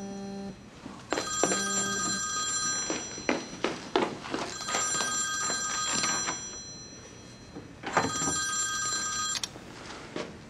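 A telephone rings repeatedly for an outgoing call in an indoor drama scene, giving several bursts of ringing separated by short pauses, with faint thumps and movement between the rings and no talk.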